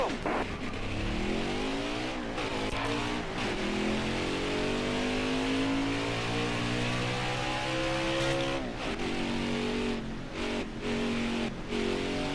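A race car engine in NASCAR Heat 4 at Darlington drones steadily and loudly throughout, its pitch rising and falling through gear changes and acceleration.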